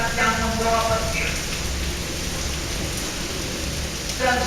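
Heavy rain pours steadily onto surfaces in a loud, even wash, with a low rumble of thunder rolling beneath it and no voices.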